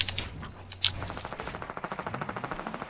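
Suppressed pistol gunfire in Fortnite: one sharp shot, then a quick, evenly spaced run of muffled pops repeating rapidly at moderate loudness, with no talking.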